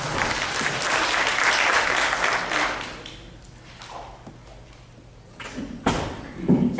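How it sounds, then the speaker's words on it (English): Audience applause welcoming a performer at a university seminar, a dense loud burst of clapping for about three seconds that fades out, followed by scattered thumps and handling noises from the stage. "Give her a round of applause."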